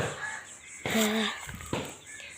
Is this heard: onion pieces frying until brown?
no